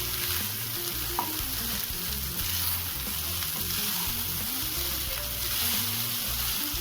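Schezwan fried rice fries in a pan, a close, steady sizzle with stirring scrapes running throughout and no talking.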